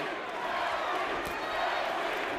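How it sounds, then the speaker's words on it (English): A boxing crowd cheering for Cory Spinks at his fight against Jermain Taylor, a broad, steady roar of many voices at arena distance under continuous commentary. "You hear some cheering for Cory in the crowd."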